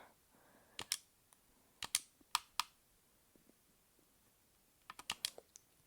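Fingers tap on a phone screen while playing Minecraft PE, sharp close clicks in small bursts and scattered single taps with quiet pauses between, no voices.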